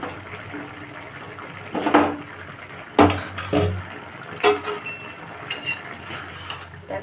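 Lid lifted off a cooking pot of simmering kohlrabi and potato curry, a few metallic clinks and clatters of lid against pot, close and moderately loud over a quiet kitchen background.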